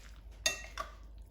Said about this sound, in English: I'm gonna mix everything together to make a perfect